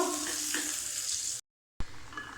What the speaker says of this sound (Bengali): এক চামচ ঘি দিয়ে আমি একটা বেরেস্তা তৈরি করে নেব